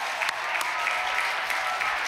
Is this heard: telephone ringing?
no